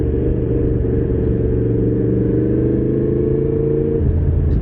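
Yamaha MT-10SP motorcycle engine running steadily while riding, a loud, continuous low rumble with a smooth, even drone and a slight drop in tone near the end.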